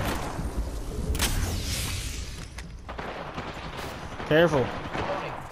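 Rapid video-game gunfire crackles in bursts from a shooter match, mixed with explosive booms and constant team voice chat over it.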